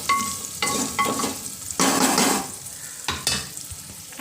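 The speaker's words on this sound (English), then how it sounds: "the chopped potatoes in it, and let it get, I'll saute it for at least a minute" Chopped potatoes being sautéed in a hot pan of tadka for dal khichdi, with loud bursts of sizzling and frying broken by scraping stirs of a spoon against the pan, close up and without talk.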